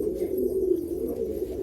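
A large Malwai pigeon from Baruipur gives a soft, close, continuous low coo in a quiet setting.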